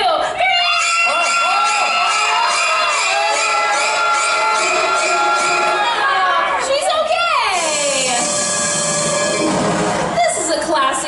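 A crowd at a Universal Studios Hollywood special effects show lets out a sustained high-pitched scream in unison, loud and dense for several seconds, breaking off and then rising again.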